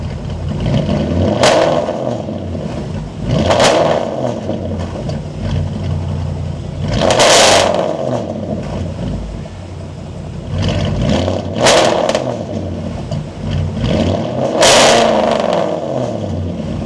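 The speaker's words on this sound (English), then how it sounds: "Let's give it a few revs." A Porsche Cayenne S 958 V8 on a fully straight-piped exhaust, cats and mufflers removed, is revved repeatedly: five sharp, loud blips rise and fall over a rumbling idle, heard up close with no talking.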